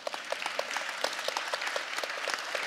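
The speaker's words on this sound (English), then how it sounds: "And you clap" Applause from a crowd at a tech conference, a steady wash of many hands with a few sharper individual claps standing out, moderately loud and continuous.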